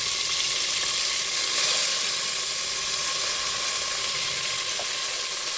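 Tomatoes frying in hot oil for chicken biryani, a loud steady sizzle and hiss that holds evenly throughout, close up with no talk.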